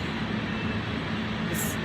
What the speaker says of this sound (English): Just got back to Zurich, walking through the train station corridor